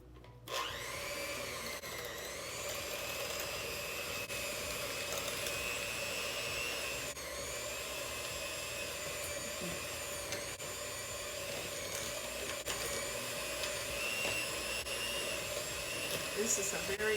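An electric mixer whirs steadily throughout, blending keto mini cheesecake batter sweetened with stevia, a continuous high motor whine with slight pitch wobble, close and loud from start to finish.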